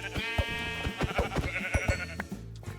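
Sheep bleat in the Minecraft video game, several short wavering bleats near and loud in quick succession over a low rhythmic thumping, with no speech.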